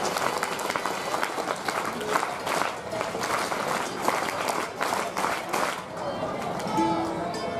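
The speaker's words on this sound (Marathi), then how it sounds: "आपल्या सर्वांकडून एक अभिनंदन टाळी सर्व मान्यवरांसाठी।" Audience applause at a school gathering honouring guests, steady broad clapping from a crowd filling the hall, moderately loud and sustained with some background noise.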